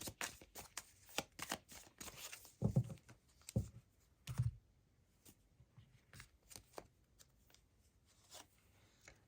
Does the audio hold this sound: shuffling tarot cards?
yes